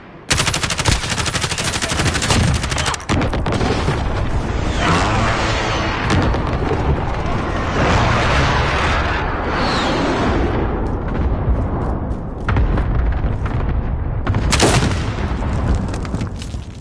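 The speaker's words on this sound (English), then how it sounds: "Precision airstrike." Precision airstrike explosions in a PS4 shooter game pound continuously, dense rapid bursts and booms layered with gunfire-like crackle. Loud and sustained, they briefly drop out before erupting again.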